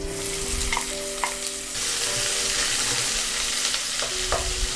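Chopped onions fry in corn oil for a Mexican-style chicken dish, giving a steady, close, dense sizzle that swells louder partway through, broken by a few sharp scrapes and clicks of stirring, with no voices.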